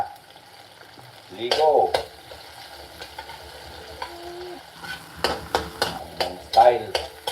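Sardines sautéing in a pan with a steady low sizzle and bursts of stirring, louder scrapes near the middle and end, while a voice speaks briefly.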